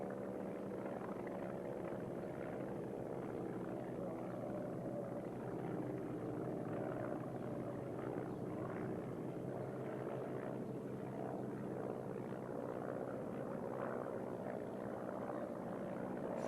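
A Ryan propeller aircraft with braced wings and exposed cylinders flies at an Australian air show in 1992, its engine a steady distant drone holding at a constant level throughout, with no voices over it.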